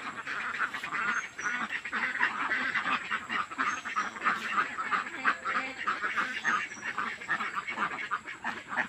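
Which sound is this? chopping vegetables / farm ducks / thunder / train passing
farm ducks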